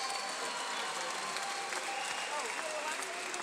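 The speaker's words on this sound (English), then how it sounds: "a round of applause for two true warriors." A crowd at a boxing match applauds after an eight-round fight, a steady wash of clapping and cheering from a large arena audience at moderate distance, with voices mixed in.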